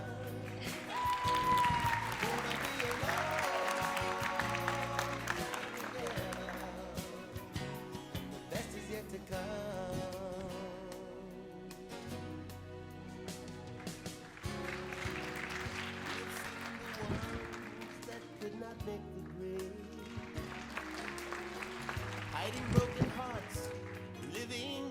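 An audience at a Hawaiian lūʻau applauds the dancers in repeated waves of clapping, mixed with music and a voice speaking over it.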